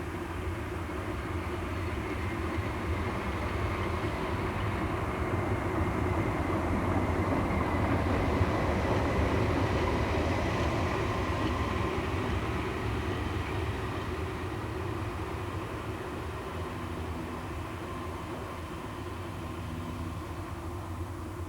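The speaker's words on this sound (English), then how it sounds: "Swiss Federal Railway's BE-46 12320 is one of the 3 remaining locomotives" A historic Swiss Federal Railways Be 4/6 electric locomotive, 12320, one of a class built by SLM in 1921–1923 for Gotthard express passenger work, rumbles steadily past at a constant loud level with a continuous low drone and no speech.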